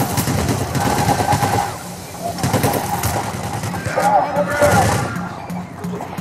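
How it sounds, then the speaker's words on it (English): Gunfire strikes the player in Payday: The Heist, with rapid shots from cops and snipers rattling through the clip under near-continuous talk. "Ow, I'm getting shot by something."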